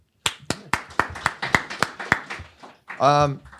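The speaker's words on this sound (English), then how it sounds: "please give everyone a round of applause" Scattered applause from a small audience at a policy panel on PBM litigation and legislation: a dozen or so crisp, evenly spaced claps close by, fading out before a voice briefly speaks at the end.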